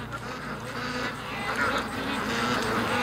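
A flock of ducks quacks steadily at the mouth of a creek outdoors, a dense overlapping chatter of nasal calls that grows slightly louder toward the end.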